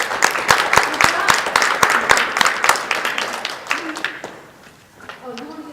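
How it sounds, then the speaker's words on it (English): Audience applause at a spelling bee: a burst of rapid, fairly loud clapping that thins out and fades after about four seconds, followed by faint voices talking. "You give everybody a round of applause."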